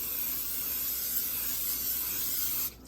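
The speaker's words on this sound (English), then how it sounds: "We're gonna go ahead and throw the spray on top of it." A steady, close hiss of oil spraying onto a hot pan runs for a few seconds, then cuts off abruptly.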